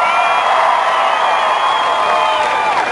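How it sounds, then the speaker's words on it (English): A large political rally crowd at a university cheers and applauds continuously and loudly, a dense sustained roar of voices and clapping with no pauses. "give Haley a big round of applause for the great introduction."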